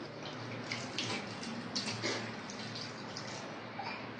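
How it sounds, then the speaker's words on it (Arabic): Water runs steadily from a tap while someone washes their feet, a soft, continuous splashing gush that stays fairly faint and close throughout. "استني اغسل رجولي."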